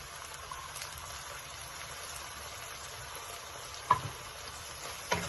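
Tomato puree frying with onions for a mushroom kalan crackles in a steady, low-level sizzle, close by, broken by two sharp clanks of a utensil against the pan near the end.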